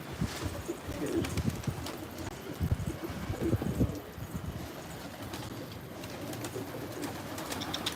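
Young pigeons about a month old on a rooftop, soft cooing amid steady rustling, wing flutters and scattered taps, continuous and close.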